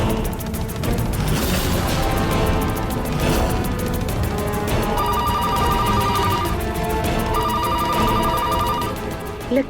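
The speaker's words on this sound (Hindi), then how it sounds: "लगता है पलक का फोन है" A telephone rings in a repeating electronic pattern over loud, busy music and crashing sound effects in a Hindi TV drama.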